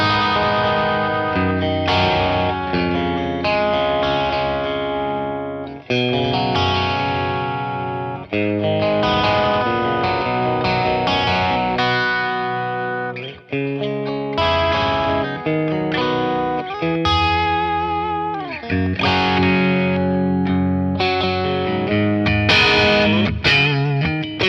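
A Stratocaster runs through a Horizon Devices Nano Attack pedal at low gain, playing continuous picked chord patterns with slight distortion and a chorus-like shimmer, loud and steady with no talking.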